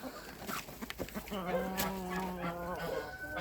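Hens cluck and squawk close by in a busy yard, one drawn-out call rising above scattered clucks and background noise.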